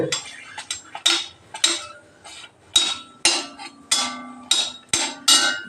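Black cumin seeds and a dried chili stirred in a pan, a spoon clinking and scraping against the metal in quick irregular taps, close and fairly loud with no talk over it.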